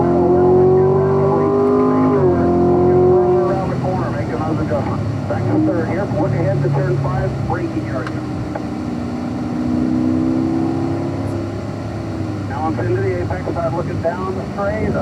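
A Chevrolet Corvette Stingray accelerates hard down a race track straight, its engine note rising through the gears and holding a loud, steady roar, with someone talking over it.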